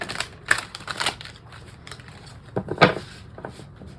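Oracle deck cards are handled and shuffled close up, a run of light tapping, flicking and shuffling clicks in uneven bursts, with no talk over them.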